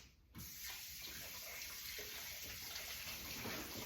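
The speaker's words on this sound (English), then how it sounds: "Wash my hands." Running tap water splashes steadily into a sink while hands are washed in a home kitchen, a continuous close rush that starts abruptly after a brief quiet moment and carries on without talk.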